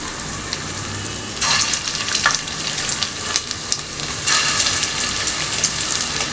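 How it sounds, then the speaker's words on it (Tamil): Chicken kola balls shallow frying in hot oil, a continuous crackling sizzle like rain that swells louder in bursts as more balls go in, with sharp pops scattered throughout. "நம்ம ஷாலோ ஃப்ரை பண்ணிக்கலாம்."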